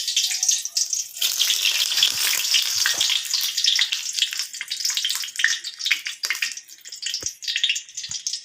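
Sliced eggplant frying in a pan of hot oil, a steady bright sizzle and crackle with a few soft pops, close and continuous with no talk.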